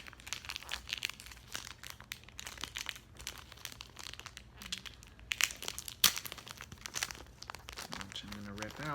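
A trading card is ripped out of bubble wrap packaging with close, irregular crinkling, tearing and crunching, while a person talks over it.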